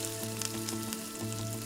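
Masala frying in oil in a pan for Telangana-style gongura prawn curry, a steady close sizzle with faint crackles, continuous and without talk.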